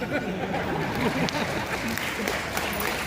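An audience claps continuously in a large auditorium, a dense, steady roar of applause lasting throughout with no pauses.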